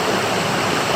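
A river rushes past a log jam in a steady, loud, close wash of water that fills the brief moment, with no voices.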